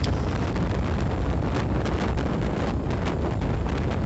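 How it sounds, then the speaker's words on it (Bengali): Breeze rushing steadily across the microphone at dawn on a street in Barishal town, a continuous broadband roar of wind noise with no talk. "মৃদু মৃদু বাতাস প্রবাহিত হচ্ছে"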